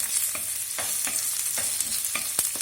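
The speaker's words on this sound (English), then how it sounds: "Slowly fry till the all ginger, garlic and onion turn little brown in color." Ginger, garlic, onion and green chili frying in oil for a soy sauce fish curry, stirred with a utensil: steady close sizzle broken by several sharp scraping strokes against the pan, no talking.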